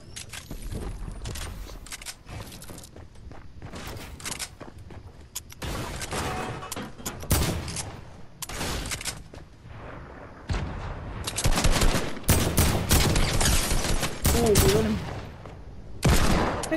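Rapid bursts of AK rifle fire from a video game build battle crackle loudly in repeated volleys, some sustained and dense, with short pauses between and a faint voice briefly underneath.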